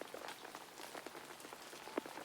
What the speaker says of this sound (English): The rain continued to fall over Sleepy Forest. Pitter-patter, pitter-patter.